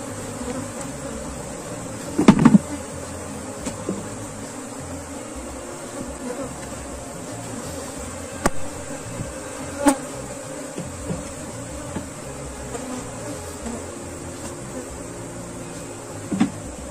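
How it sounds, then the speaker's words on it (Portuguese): Swarm of honey bees being transferred by hand into a hive box, a steady insect buzz filling the whole stretch with a few brief knocks and handling bumps. "vou transportar essas abelhas para cá."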